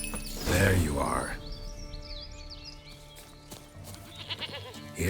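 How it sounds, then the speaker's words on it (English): A goat in The Witcher 3: Wild Hunt lets out one loud, wavering bleat near the start, followed by quieter ambient chirps and soft game background sounds. "Here, goat."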